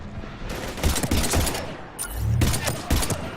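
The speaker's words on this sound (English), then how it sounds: "We're taking heavy fire." Heavy gunfire in a sci-fi shooter video game, a dense fusillade of rapid bursts and repeated shots crackling loudly and continuously throughout, with no talk over it.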